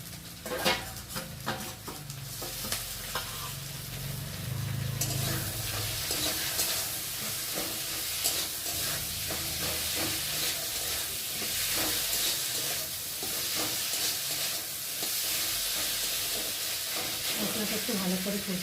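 Soaked shrimp fry in a pan with turmeric and ground ginger-cumin paste, giving a steady, loud sizzle with stirring scrapes throughout, heavier bubbling near the start.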